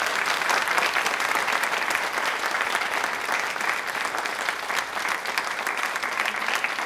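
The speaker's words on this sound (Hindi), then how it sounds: "ताली एक बार जोरदार" A studio audience at a Rajasthani TV quiz show claps loudly and steadily throughout, a dense, even wash of applause with no voices standing out.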